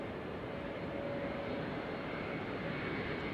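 An ANA airliner banks away after departure, its engines giving a steady, broad jet roar that holds at an even level for the whole few seconds, fairly distant and with no voices over it.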